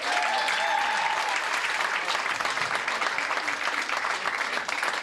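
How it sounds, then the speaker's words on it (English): A comedy club audience gives comedian Jim Serino a sustained round of applause, many hands clapping loudly and evenly with a slight crowd murmur and a brief whoop near the start. "Another round of applause for Jim Serino"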